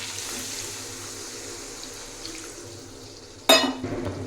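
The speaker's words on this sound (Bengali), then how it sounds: "চল জল অ্যাড করবো এখানে" Water pours into a cooking pot during a home chicken curry recipe, a short bright gush starting late and splashing on after a steady low kitchen hum.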